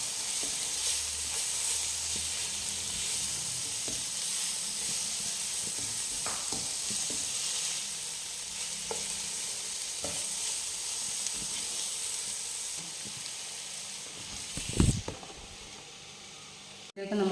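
Sliced tomatoes, about three, being stirred into a sizzling masala for Karimeen Pollichathu, a steady frying hiss with scattered scraping stirs and a louder clatter near the end.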